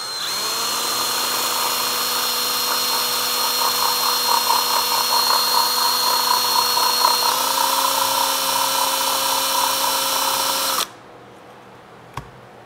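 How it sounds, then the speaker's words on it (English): A power drill whines steadily for about eleven seconds, drilling out a hole in a Sony HDR-AS20 action camera housing, its pitch shifting slightly partway through, then stops, followed by a single faint click. "Now I can drill out the hole."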